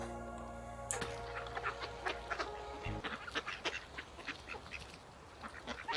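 Ducks on a river on a cold frosty day, quacking and honking in scattered bursts at moderate distance after a brief tonal sound at the start.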